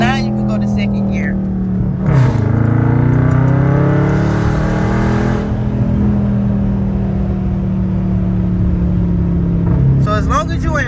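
A Dodge SRT Mopar engine pulls in gear with a loud, steady rumble that rises in pitch and resets as gears change, while a voice talks briefly near the start and end.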